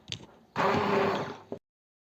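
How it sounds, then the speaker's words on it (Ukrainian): A blender whirs loudly for about a second, grinding thick apricot jam, with brief clicks before and after. "Тепер ми беремо його, подрібнюємо блендером."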